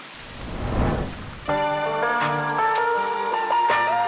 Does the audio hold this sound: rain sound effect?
yes